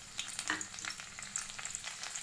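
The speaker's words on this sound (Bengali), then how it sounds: "কুচনো রসুনটা দিয়ে দেবো এর মধ্যে, দিয়ে এটা ফ্রাই হবে, ভাজা ভাজা হবে রসুনটা।" Minced garlic sizzles in hot oil in a wok, a soft steady crackle with scattered small pops, fairly faint throughout and with no one talking.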